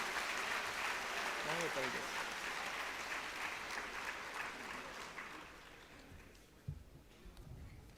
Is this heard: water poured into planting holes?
no